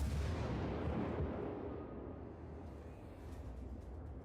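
Heavy naval gunfire from warships, including a Mogami cruiser, in the game World of Warships: a loud, dense broadband boom and rumble that fills the opening second, then decays into a sustained low roar without voices.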